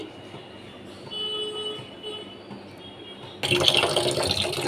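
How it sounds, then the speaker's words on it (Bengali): Hilsa fish rinsed under running tap water, a steady low wash of flowing water that swells into a louder, brighter splash near the end. "ইলিশ মাছগুলোকে আমি ভালো করে ধুয়ে নিচ্ছি।"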